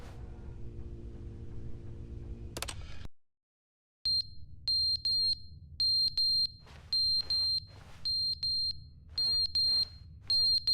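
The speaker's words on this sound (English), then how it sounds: "Oh, the fire alarm. That's an annoying sound." Repeated bursts of a high-pitched smoke alarm chirping in The Stanley Parable: Ultra Deluxe Edition, loud and close, in an irregular run of beeps after a low room hum and a short silence.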